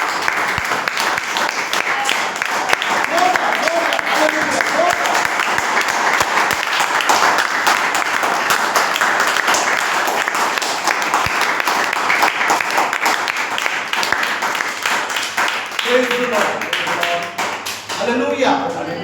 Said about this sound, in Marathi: प्रभू येशूसाठी आपण जोरदार टाळ्या.